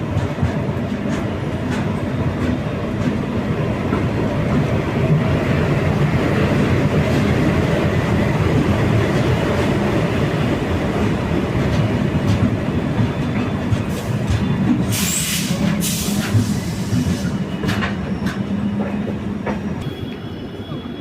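A passenger train hauled by a WDP4D EMD diesel locomotive rolls past close by, with loud continuous rumbling, wheel clatter and brief high squeals near the end.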